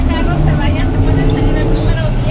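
A car rumbles past on a street, a loud, steady low engine roar filling the whole stretch with faint voices underneath.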